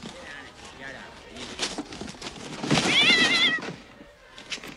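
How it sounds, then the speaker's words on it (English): A cat meows from inside a wrapped Christmas gift box in the 1989 comedy film National Lampoon's Christmas Vacation. One drawn-out meow rises over muffled voices and background sound from the scene. "She wrapped up her damn cat."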